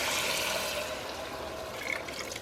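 Water pours into a pot of soaked, rinsed beans to which tequila has been added, a continuous splashing trickle heard up close for a couple of seconds with no speech.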